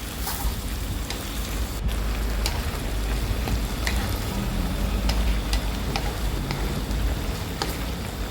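Chicken with pickled bamboo shoots stir-fries in a pan for a spicy Thai red curry stir-fry, a dense continuous sizzle and bubble with faint scraping of the spatula, steady and close.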